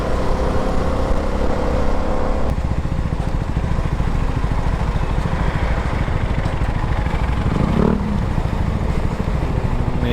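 A CFMOTO 300SR motorcycle rides through heavy traffic, its engine droning steadily and loudly throughout, mixed with surrounding road and traffic noise, and no speech.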